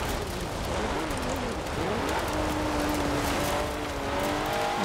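A stock 1992 Alfa Romeo 155 Q4 drives in Forza Horizon 4, its engine note steady and continuous at moderate loudness, with pitch rising and falling slightly as the car is steered and powered.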